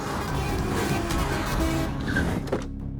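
A car pulls away with engine rumble and road noise, a brief horn-like tone, then the sound drops off sharply as the vehicle departs.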